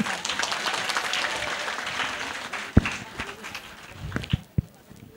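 Student audience at an Indonesian university sholawat gathering breaks into dense, steady applause that fills most of the clip before thinning into a few scattered claps near the end, with some voices mixed in.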